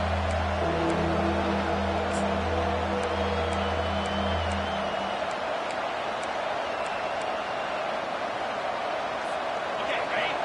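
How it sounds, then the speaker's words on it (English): A Madden football video game stadium crowd roars on third down, a dense, sustained cheering wash with a low horn-like drone in the first half, while a commentator talks over it. "Decibels rising as the crowd gets behind this defense on 3rd down"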